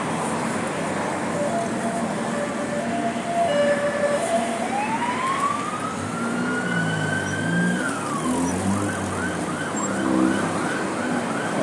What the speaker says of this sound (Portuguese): esse pessoal que anda com carro descaracterizado e quer ficar ligando sirene